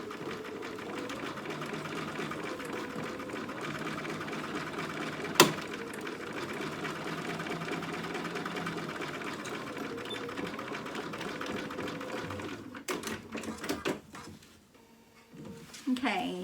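A sewing machine basting a gathered skirt onto a dress bodice runs in a steady, fast, even whir for about twelve seconds, then stops and gives way to handling noises, with someone speaking over it.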